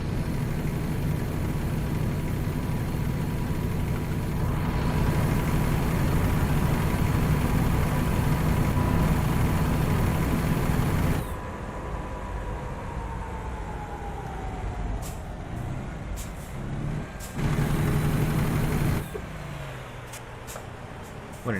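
A heavy truck engine in American Truck Simulator drones steadily with road rumble, then drops in level and shifts pitch as it slows, with brief louder surges near the end.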